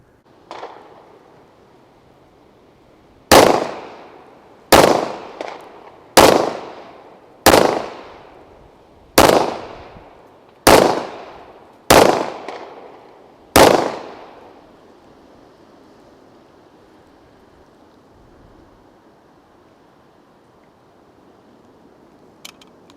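A Rock Island Armory Tac Ultra FS 1911 pistol in .45 ACP fires eight loud, sharp shots at an uneven pace of roughly one to two seconds apart, each with a short ringing decay, followed by quiet.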